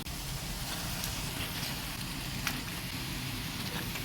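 Chicken, about 1.5 kilos, dropped into hot gravy in a pan, giving a steady, dense sizzle and crackle that runs loud and unbroken with no talking.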